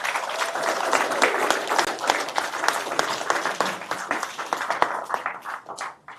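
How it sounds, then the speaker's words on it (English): Wedding guests at a ceremony applaud in steady, lively clapping that holds for several seconds and then tapers off, close and fairly loud, with some crowd murmur underneath. "Round of applause, please."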